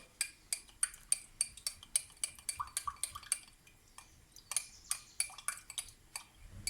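A spoon clinks rhythmically against a bowl while seasoned cherry tomatoes are mixed, roughly two bright metallic taps per second, close and clear over a quiet background.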